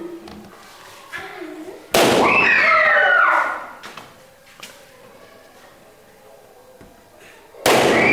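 A balloon is popped with a single loud, sharp burst that rings briefly, followed by quieter room sounds and a second sudden loud pop near the end, with some voices in the background.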